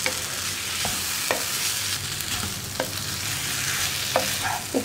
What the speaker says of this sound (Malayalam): ഇതെല്ലാം ചേർത്ത് ഇളക്കി മിക്സ് ചെയ്ത് സോയ ചങ്ക്സിലേക്ക് മസാലയൊക്കെ നന്നായിട്ട് പിടിച്ചു വരണം